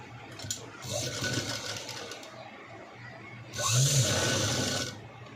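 A sewing machine stitches two pieces of blouse cloth together in two short bursts of rapid whirring, close and fairly loud, with a brief pause between runs.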